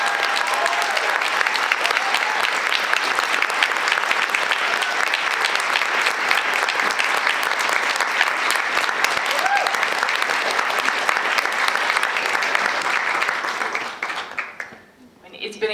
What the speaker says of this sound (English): We want to start with a round of applause for this.